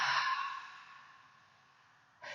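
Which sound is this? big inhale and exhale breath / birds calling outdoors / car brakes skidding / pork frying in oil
big inhale and exhale breath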